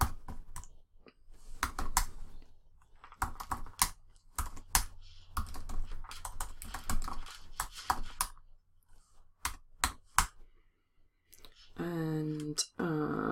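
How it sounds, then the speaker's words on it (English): Fast, uneven keyboard typing with clustered clicks and short pauses, followed briefly by someone speaking near the end. "you can see what I'm typing in"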